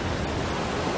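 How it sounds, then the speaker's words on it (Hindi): Towering tsunami ocean waves in a film surge as a continuous, heavy broadband roar of churning water, loud and steady for the whole moment with no voices. "लहरें ऊंची होती जा रही हैं।"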